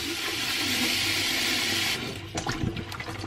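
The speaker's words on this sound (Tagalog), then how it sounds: "humulan muna natin ng tubig" Tap water runs steadily into a container to rinse strawberries and blueberries, a loud continuous rushing hiss that cuts off near the end and gives way to splashing and dripping, with no talking.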